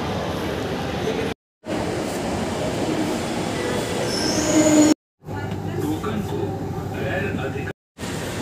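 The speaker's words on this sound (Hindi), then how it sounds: "यहाँ से जो है मैं पकड़ रहा हूँ लास्ट मेट्रो केशवपुरम के लिए" A Delhi Metro train rumbles steadily along the rails with wheel squeal and rattling, heard from inside the carriage while someone talks over it.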